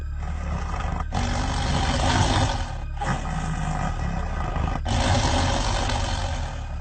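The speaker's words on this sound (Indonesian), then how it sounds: "Ada geraman suara juga. Harimau." A tiger growls and roars in long, deep rumbling bursts separated by brief breaths, loud and close, with no voices.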